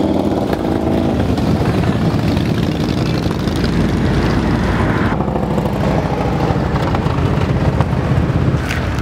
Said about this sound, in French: Il y a beaucoup de motos.